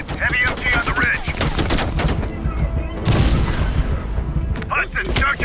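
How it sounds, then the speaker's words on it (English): A heavy machine gun firing from a ridge in the Call of Duty Black Ops Cold War campaign: dense, loud bursts of gunfire and booming impacts mixed with game sound effects, with brief voice bits under the barrage. "Heavy MG on the ridge."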